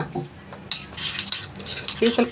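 Flour paste being mixed in a bowl with a metal spoon, with repeated scraping and clinking of cutlery against the dish at close range and no talking.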